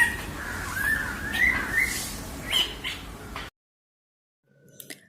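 A green bird calls outdoors in spring, several short squawking notes in a loose series over a noisy background, then the sound cuts out briefly before faint chirps return.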